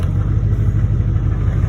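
An LBZ Duramax diesel pickup engine running loud and close, a steady low rumble with a throbbing pulse throughout and no voices.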